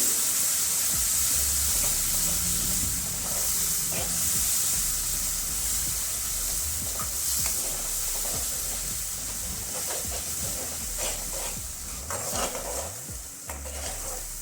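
Steady crackling sizzle of ground spices frying in hot oil for a pumpkin dish, with occasional scraping stirs and clinks of a pan, close up and with no talking.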